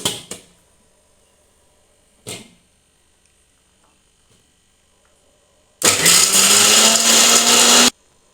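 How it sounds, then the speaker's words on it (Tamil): Mixer grinder whirring loudly for about two seconds as it grinds coconut, chillies and curry leaves, preceded by a couple of sharp knocks of the jar being set in place. "தேங்காய், மிளகாய், கருவேப்பிலை இதை ஒரு சுற்றிட்டு அப்புறமா மிச்சத்தை போடலாம்"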